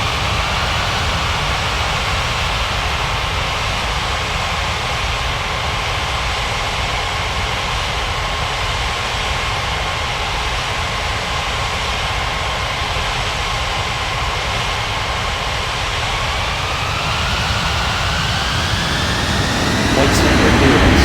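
An airliner taking off from runway 14 right in the air traffic control game Unmatched Air Traffic Control: a steady, loud broadband jet roar holds evenly, then a whining engine tone climbs and swells over the last few seconds.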